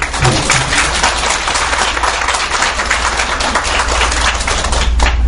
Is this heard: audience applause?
yes